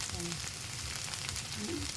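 Okra fries slowly over a low gas flame with a gentle, even sizzle. A faint low hum sits in the background.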